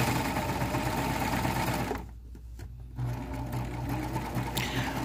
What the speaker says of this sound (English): And sew off the edge.